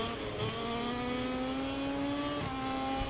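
A Gasgas Tech3 KTM MotoGP motorcycle in the MotoGP 24 video game, at Lusail, Qatar, revs steadily at high pitch, its tone climbing slowly, then dipping briefly and rising again, loud and continuous with a synthetic game-like quality.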